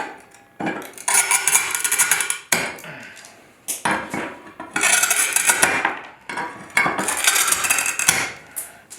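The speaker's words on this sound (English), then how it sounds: "So then I can come around and clip. It cuts a lot better on the areas that you've scored" Tile nippers clip away pieces of scored ceramic tile while a half-circle cut is shaped, giving repeated sharp crunching snaps and gritty crumbling in three loud bursts with short pauses between, close up and with no talk.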